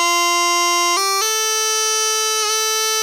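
Bagpipes play a short bar of the tune Lochanside, a steady droning chanter holding a few sustained notes that step from one pitch to the next, loud and clear with no talking.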